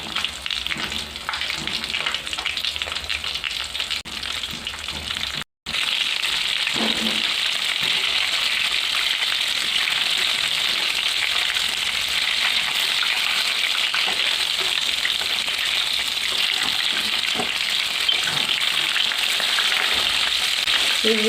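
KFC-style chicken legs fry slowly in oil with a loud, steady, close hiss of bubbling fat. The sound holds unbroken apart from one brief dropout, with no speech.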